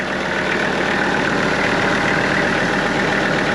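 A tractor engine idles close by with a steady, even rumble that holds unchanged for a few seconds, with no talking.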